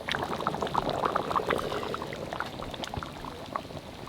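Water pours steadily into a simmering curry of tender young goat meat, a close splashing gurgle with bubbling that tapers slightly toward the end.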